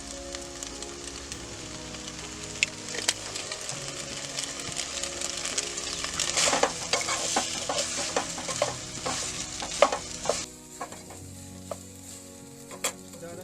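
Red sauce and pasta sizzle in a camp pan over a fire outdoors, stirred with steady scraping and clinking for several seconds before the sizzle quiets near the end.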